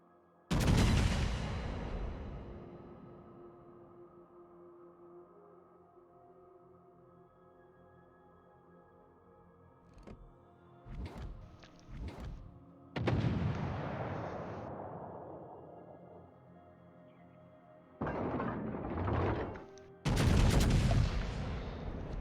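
Heavy booming salvos from a warship's broadside guns in a naval battle video game, several loud blasts spread out with long rumbling tails between them, no voices.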